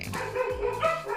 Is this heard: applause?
no